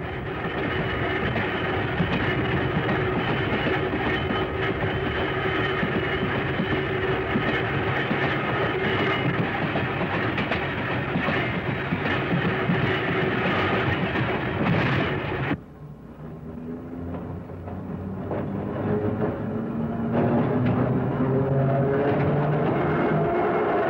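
A Los Angeles Red Car electric railway car rides the line near the Dominguez Junction substation, with a loud, continuous rumble of wheels and carriage that briefly dips partway through before building back up.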